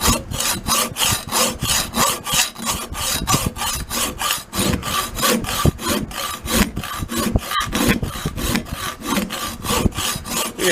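A folding saw's hacksaw blade cutting steadily, with rhythmic back-and-forth rasping strokes, about two per second, close and loud, no voices.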